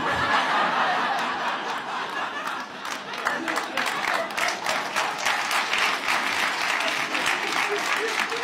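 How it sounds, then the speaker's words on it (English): An audience applauds steadily and fairly close, with scattered chuckles and laughter mixed into the dense clapping throughout. "sometimes when people start applauding"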